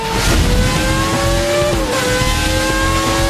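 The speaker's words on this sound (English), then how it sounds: "It's the distinctive sound of components moving at speeds that would destroy an ordinary engine." A high-pitched Formula 1 car engine screams loudly and steadily, its tone climbing and dropping slightly as it revs, with no voices.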